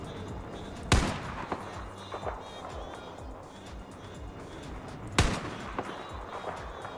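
Two sharp sniper rifle shots from a video game crack out about four seconds apart, each a loud single blast with a short decaying tail over quieter background noise.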